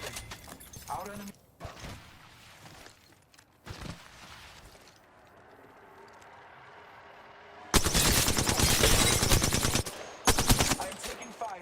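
Gunfire in Apex Legends: sparse single shots early, then long dense bursts of automatic fire, loud and close, with a voice speaking between them.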